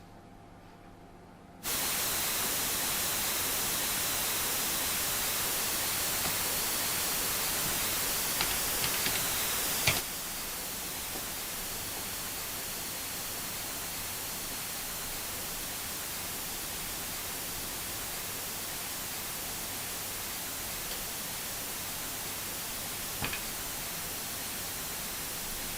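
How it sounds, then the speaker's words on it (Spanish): Broadband white noise fills the whole spectrum, loud, steady and heavily saturated, beginning after a brief quiet moment and holding level throughout with a slight drop in level partway through. "Aquí tenemos el ruido blanco."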